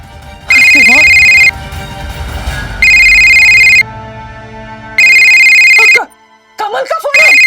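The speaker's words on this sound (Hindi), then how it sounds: "कमल का फोन है।" A telephone rings in bursts of a steady electronic tone, three long rings with pauses between, while voices talk over the gaps and after.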